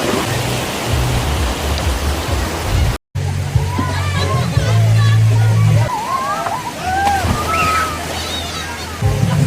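Cold spring water splashing and sloshing steadily at an outdoor swimming spot in Talakag, Bukidnon, a continuous watery wash with people talking over it throughout.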